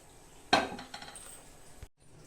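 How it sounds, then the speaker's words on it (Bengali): A metal kadai set down on a stove for making dhokar dalna, a sharp metallic clank followed by a short ringing rattle and a few faint clinks, close and alone. "ধোকাটা বানানোর জন্য আমি কড়াই বসিয়ে দেব"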